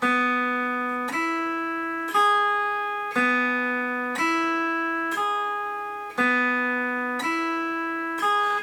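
Steel guitar picking out a repeating forward roll with pickblocking, bright plucked notes at an even steady pace, each ringing into the next, with no voices.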